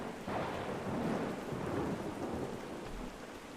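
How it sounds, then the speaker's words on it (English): Rain pours down on leaves in a steady wash with a low rumble of thunder underneath, no voices. "There's nothing more sorrowful than the sound of rain on leaves."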